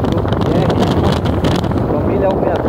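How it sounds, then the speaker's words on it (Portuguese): Strong wind blows at the beach at Canto da Barra in Fortim, buffeting the microphone with a loud, steady roar and gusty rumble throughout, with a muffled voice underneath. "Tem vento demais."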